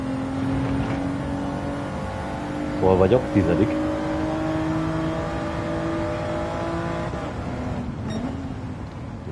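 Car engines in a racing video game drone steadily throughout at moderate volume, with a brief revving surge midway, while someone talks over the game sound.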